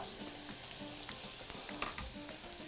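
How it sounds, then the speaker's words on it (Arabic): Béchamel powder being stirred into sizzling butter in a pan, a steady bright fry hiss with a few soft scrapes and taps from the spoon. "وعليها بودرة البشاميل اللي هقلبها كده مع الزبدة كويس قوي"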